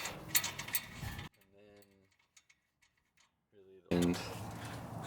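Ratchet wrench clicking rapidly as a 19mm nut with washer is backed off a 5th Gen Toyota 4Runner's suspension during a coilover install, short close bursts with a quiet gap between them.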